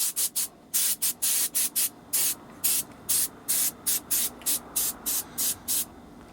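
Aerosol spray paint applied in Guards Red to the headlight trim rings of a 1977 Porsche 911 Turbo, heard as loud, close bursts of hiss in an even rhythm, each lasting a fraction of a second, about sixteen in all.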